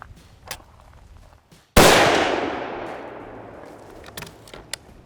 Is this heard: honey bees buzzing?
no